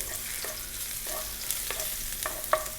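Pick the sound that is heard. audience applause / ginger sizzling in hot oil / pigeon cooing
ginger sizzling in hot oil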